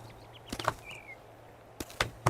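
Soft plop sounds from earning money in the video game Moonlight Peaks, a few short pops arriving in two small clusters over a steady low background hum, with one faint rising tone between them.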